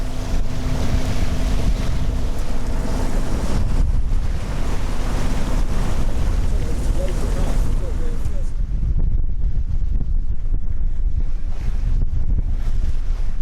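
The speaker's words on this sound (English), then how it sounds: "Once we were on the wind, we were welcomed with the normal wind over tide east coast chop" A sailboat beats upwind through east coast wind-over-tide chop. Loud, constant wind buffets the microphone over a steady rush of water against the hull for the whole stretch.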